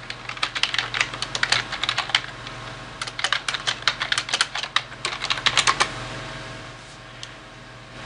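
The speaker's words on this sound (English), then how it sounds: "I can type whatever the notes I want." Fast, close keystrokes on a computer keyboard as call notes are typed, forming a steady clattering run for about six seconds before trailing into quiet.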